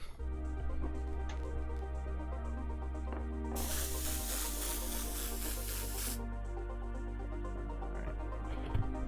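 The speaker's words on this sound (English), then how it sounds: "There's definitely something stuck in this airbrush." A clogged airbrush sprays paint in a steady hiss lasting a few seconds, set against a constant background hum and faint music-like tones.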